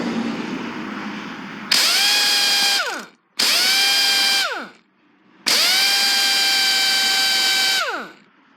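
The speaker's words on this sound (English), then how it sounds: "So here's my 1/2 inch Chicago pneumatic, and I've got it set to full power in forward" Chicago Pneumatic 1/2 inch air impact wrench run at full power in forward: three loud, sustained high-pitched whirring bursts, each spinning up sharply and winding down, separated by short pauses, close up with no talk.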